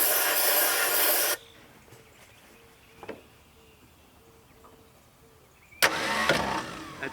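The starter on an abandoned Mustang Cobra, not run in 27 years, cranks in loud hissing bursts at the start and end, with faint clicks and knocks between.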